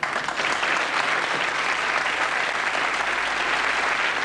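Sustained studio audience applause on a British sketch comedy show, a dense, even roar of many hands clapping at close range, loud and unbroken throughout with no talk over it.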